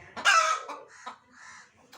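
Backyard chickens cluck and squawk in short, uneven bursts at close range, one louder call up front followed by quieter clucks.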